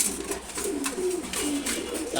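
Soft, rolling coos come from a group of female pigeons in a pigeon loft, a few distinct low calls repeating at an unhurried pace over a quiet, slightly noisy background.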